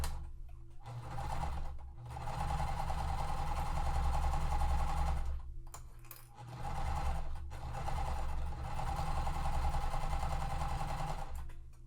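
A sewing machine stitches a large quilt block in long, steady runs of fast, even whirring, close and loud, pausing briefly between seams.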